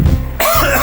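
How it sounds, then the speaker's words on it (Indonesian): A single sharp cough bursts out close to the mic, preceded by a brief throat sound. "Sorry, gue batuk lagi."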